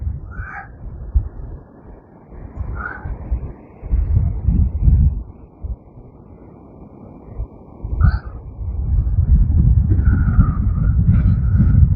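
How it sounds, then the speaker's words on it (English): Strong wind buffeting a microphone on the beach at Blackpool as the tide comes in, a loud low rumbling roar that swells and eases in gusts and grows steady and heavy toward the end, with faint higher sounds briefly above it. "Oh, that is getting so windy, seriously now."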